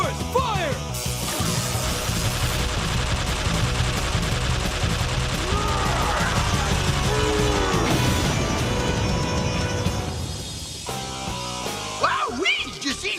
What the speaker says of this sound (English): The Power Rangers blew him into a zillion pieces